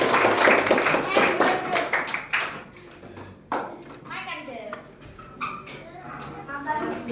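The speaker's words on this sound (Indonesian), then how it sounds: "tepuk tangan untuk kalian." A burst of hand clapping opens the clip and fades after a couple of seconds, followed by voices talking and scattered taps.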